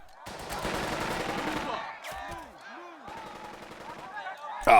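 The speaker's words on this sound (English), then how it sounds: "Ah, and the machine gun, of course." Machine gun firing in the WW2 video game Burden of Command, a sustained rattling burst, then a second longer burst after a pause, with a voice talking faintly alongside.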